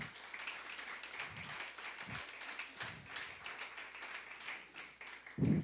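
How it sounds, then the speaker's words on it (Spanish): Church congregation applauding, a sustained broadband wash of many hands clapping at moderate level for several seconds, with a louder burst near the end. "Démosle un fuerte aplauso al Señor."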